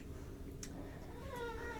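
A pet cat meows faintly during an indoor floor workout, with a soft rising call near the end over a low background hum.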